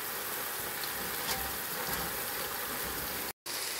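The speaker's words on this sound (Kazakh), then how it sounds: "Бәрін араластырып қуырып аламын." Meat and vegetables fry in a cauldron with a steady, dense, close sizzle that holds evenly throughout, broken only by a brief cut near the end, with no talking.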